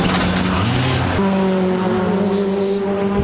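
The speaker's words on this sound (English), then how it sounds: "Cars on the circuit here at Macau then" Touring race cars at the 2007 WTCC Macau circuit round rev their engines loudly up close, a brief rising growl that drops and settles into a steady droning note.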